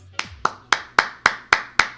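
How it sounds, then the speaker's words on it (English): A single person claps hands seven times in a steady, evenly spaced rhythm, each sharp, close and loud, with no talking. "I like doing the clap."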